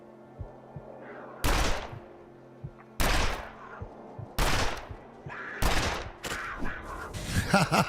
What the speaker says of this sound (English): I knew I wanted the first encounter to be with a rifle.